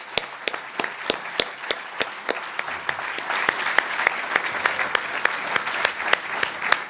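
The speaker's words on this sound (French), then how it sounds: "Je vais les applaudir, je vous propose de le faire avec moi." An audience claps for volunteers at a diocesan synod gathering in Mons, a dense, sustained round of applause with a few sharper individual claps standing out, steady throughout and close.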